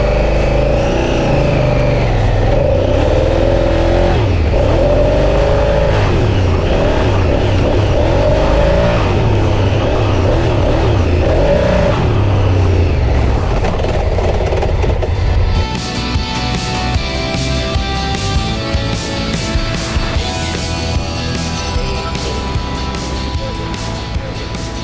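A motorcycle is ridden off-road with a steady, loud engine drone that shifts in pitch. Wind noise and rough terrain rumble sit over it, and the engine note changes and roughens partway through.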